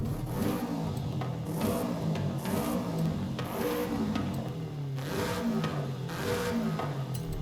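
A video game Subaru WRX engine revs repeatedly in rising and falling surges, loud and close, with a rough aftermarket exhaust note throughout.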